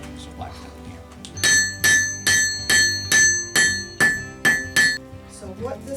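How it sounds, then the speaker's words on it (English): Black hammer striking hot metal on an anvil in a blacksmith setting, about nine loud ringing metallic blows in a steady rhythm, each with a bright lingering ring, with quieter knocks before and after. "we shape it over here on the anvil with this hammer, this black hammer"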